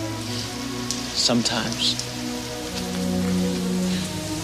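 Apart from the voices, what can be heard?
rain falling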